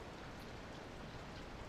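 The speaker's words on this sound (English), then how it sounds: "Well, I guess it's been raining all day." Steady rain falls in the video game Frantic Friday, a dense, even hiss of drops with no other sound on top.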